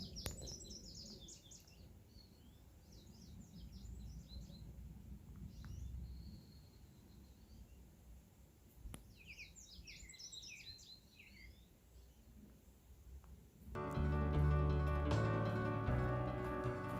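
Bird calling near a hiking trail on the Appalachian Trail in early June, with repeated bursts of fast, high chirping trills at moderate distance over steady outdoor background hiss, then a louder broadband rumble near the end.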